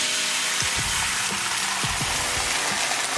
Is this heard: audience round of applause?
no